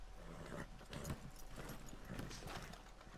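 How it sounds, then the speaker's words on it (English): Horse hooves in Red Dead Redemption 2 clip-clop steadily as a horse trots closer, with rhythmic hoof beats and light tack jingling over quiet game ambience. "Call your horse over."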